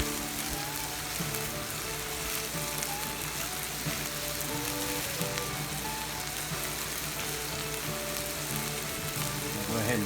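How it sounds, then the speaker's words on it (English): Butter sizzles and crackles steadily on a hot cast iron griddle, a loud close frying hiss with scattered pops that never lets up. "Get the butter on the griddle prepped up."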